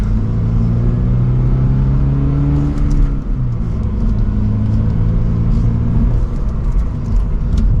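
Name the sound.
2024 Subaru BRZ accelerating gently in second gear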